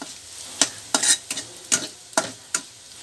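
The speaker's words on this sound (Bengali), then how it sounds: "মিষ্টি কুমড়া খুব তাড়াতাড়ি হয়ে যায় ভাজা" Small pumpkin pieces fry in a pan under a soft sizzle while a utensil stirs them in about seven quick, sharp scraping strokes, close and clear with no talk.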